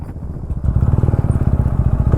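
A Royal Enfield Ronin motorcycle engine at a drag race, loud and close, rising from a lower idle into a fast, pulsing throttle roar with a steady rapid exhaust beat.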